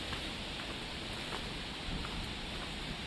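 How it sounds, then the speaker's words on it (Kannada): A waterfall gives a constant, dense rushing roar that fills the whole stretch evenly, with no voices over it. "ಸೌಂಡ್ ನೀವು ಕೇಳಿಸ್ಕೊತಾ ಇರ್ಬೋದು ಫಾಲ್ಸ್ದು"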